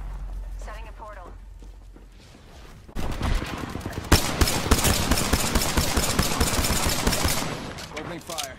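Video-game gunfire erupts after a quieter stretch, with dense rapid bursts of shots rattling loudly and continuously for several seconds, mixed with game voice lines and effects.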